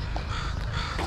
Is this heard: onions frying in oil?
no